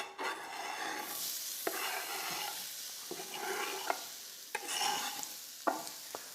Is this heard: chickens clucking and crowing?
no